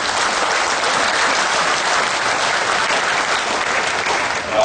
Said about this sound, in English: we should give a big round of applause to the breeders and exhibitors of these great cattle here today